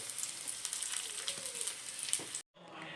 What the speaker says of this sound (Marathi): आता दीदी माझा केळ्याची कापो फ्राय करून घेता, कच्च्या केळ्याची कापो.